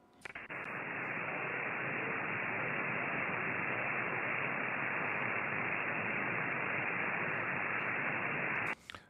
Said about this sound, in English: I copy a very weak, very weak signal